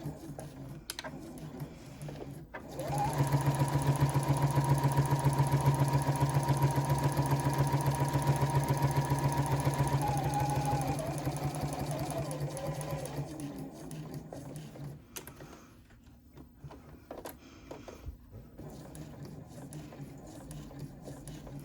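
A sewing machine stitching around a zipper pocket, running in a steady, close whir of rapid stitches for about ten seconds, then slowing and stopping amid faint handling sounds.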